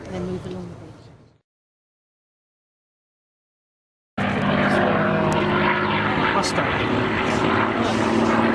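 A four-engine bomber with Wright Cyclone radial engines passes at an airshow in Shoreham, its propeller drone loud and continuous after a brief silent gap, with a commentator's voice talking over the start.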